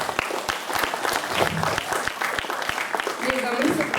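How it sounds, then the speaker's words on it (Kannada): Audience clapping for the parents at a children's graduation ceremony of a Kannada school festival in Hamburg, steady applause running the full length with a voice talking over it. "ಸೊ ಅವ್ರಿಗೂ ಕೂಡ ನಾವು ಚಪ್ಪಾಳೆಯನ್ನ ಹಾಕ್ಲೇಬೇಕು"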